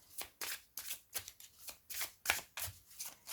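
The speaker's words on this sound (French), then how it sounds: "Donc nous allons mélanger les cartes et nous allons tirer deux cartes." A deck of oracle cards is shuffled by hand, close and soft, in a steady rhythm of about a dozen riffling bursts with brief gaps between them, no speech.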